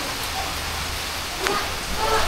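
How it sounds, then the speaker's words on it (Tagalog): Typhoon rain still falling after easing off, a steady dense hiss with a few faint scattered taps, continuous and unbroken throughout. "pero may ulan pa rin mga katuba"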